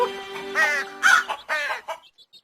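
A cartoon crow caws in a few harsh, rasping calls, loud and close, in a children's animated story, fading into short faint chirps at the end.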